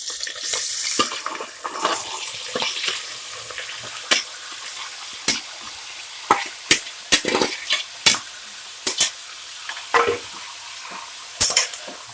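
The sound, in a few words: boti (goat tripe) frying in oil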